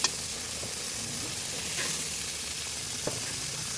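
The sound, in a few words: hot water added to sizzling fish curry in a pan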